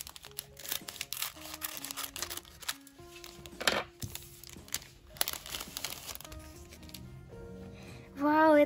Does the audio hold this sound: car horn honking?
no